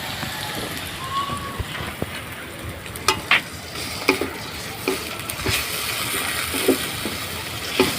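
Ginger garlic paste sizzles in a pan with lightly browned onions, a dense continuous crackle broken by sharp stirring clicks and taps throughout.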